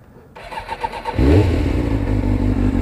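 A 600cc sport motorcycle starts up and revs, a brief crank giving way to a loud, steady idle close to the microphone, with no talking.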